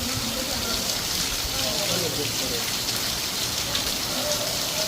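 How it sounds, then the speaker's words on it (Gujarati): Dense, steady hiss of heavy rain falling continuously, with faint voices murmuring underneath. "ઠેઠ વરસાદ આવે છે"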